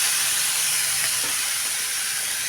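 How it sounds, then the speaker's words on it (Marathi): Water sprinkled onto a chapati in a hot pan sets off a loud, continuous hissing sizzle of steam that holds steady for the whole moment, with no talk. "ह्यावर थोडंसं पाणी टाकून घ्यायचं आहे."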